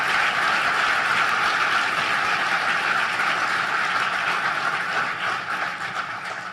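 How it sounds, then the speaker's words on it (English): Sustained, vigorous applause from a large audience honoring the government of Mexico at an event on prosperity and security in Central America, a dense, steady roar of clapping that fills the whole stretch and tapers slightly at the end. "let's give the government of Mexico a vigorous round of"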